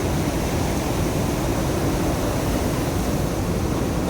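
High ocean waves at Udupi beach in India roar as a continuous broadband wash of surf, loud and steady throughout with no distinct breaks or voices.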